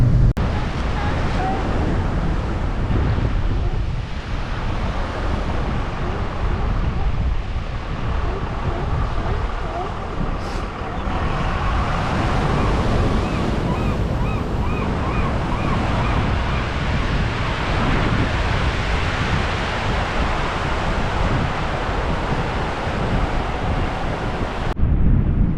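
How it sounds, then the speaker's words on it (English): Waves and wind at Grayland Beach State Park on an overcast day, a broad continuous wash of surf and gusting wind that stays steady and fairly loud throughout. "The beach is behind us"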